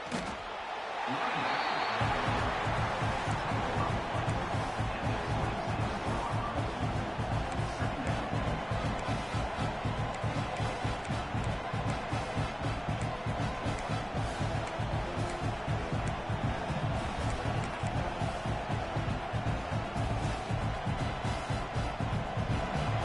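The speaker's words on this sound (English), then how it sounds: "It's early, but this crowd is fired up. Listen to this noise here." Loud, dense roar of a college football stadium crowd at Alabama vs Florida, cheering and yelling, sustained and steady throughout, with rhythmic pounding beats underneath.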